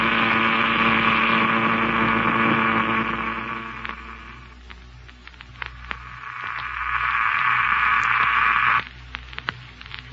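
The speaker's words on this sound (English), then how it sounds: "that disintegrator certainly cuts into the ground out there" Disintegrator cutting into the ground, carried over a radio transmitter as a steady buzzing hiss that swells, dips, and swells again with faint crackles, loud and unbroken with no talk.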